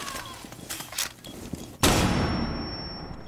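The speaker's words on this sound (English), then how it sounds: "Stun grenade." A stun grenade detonates in a competitive 2v2 video game match, one sharp loud bang after softer scattered shots, followed by a long bright ringing tone that slowly fades.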